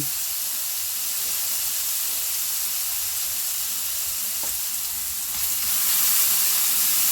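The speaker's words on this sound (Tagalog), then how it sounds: "Kailangan lutuin po natin yung ating minced garlic. Sunod naman natin yung ating onion." Minced garlic and onion fry in a pan, giving a continuous close sizzle with a steady hiss that swells a little louder near the end, with no voices over it.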